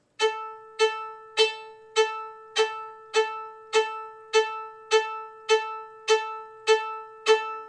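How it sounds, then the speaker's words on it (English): A violin bow bounces on one string, striking the same note twelve times in an even, drum-like rhythm with short ringing decays. "properly letting the bow bounce and touch that string and hitting it like a drum"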